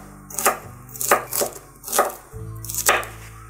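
A knife chops through onion on a cutting board while preparing a Mekong Delta-style braised pork hock. Four or five firm, evenly spaced cuts land close and clear, with no talking.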